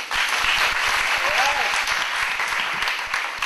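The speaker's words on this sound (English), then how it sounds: "Another round of applause, please, for Mr. Mark Ruiz." Sustained applause from a forum audience, dense and loud throughout with steady clapping filling the space.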